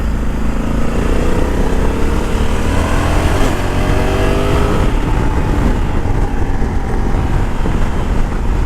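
A Honda Africa Twin DCT motorcycle engine with stock exhaust running loud and close, a continuous throaty exhaust drone with shifting revs throughout.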